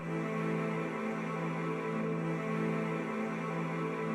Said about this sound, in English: next to that we have these violin chords and they sound like this.